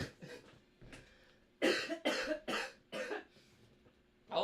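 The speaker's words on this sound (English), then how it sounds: "I've been trying not to cough for this stream because I have a cough" Someone coughs repeatedly during a live Q&A stream: a faint throat sound first, then a burst of four or five loud, close, harsh coughs in quick succession.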